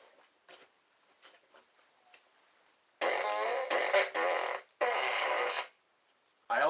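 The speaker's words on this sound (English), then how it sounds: "We must have the fart gun." A toy fart gun lets out several loud, raspy blasts in close succession, a long burst followed by a brief gap and another long burst, after a few quieter scattered sounds.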